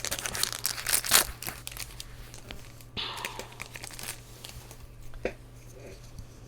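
Foil wrapper of a Magic: The Gathering Innistrad Midnight Hunt booster pack being torn open and crinkled, a burst of sharp crackling rips followed by softer rustling of the plastic nearby.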